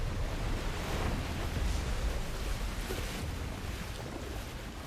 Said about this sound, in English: Oh, the water's rising.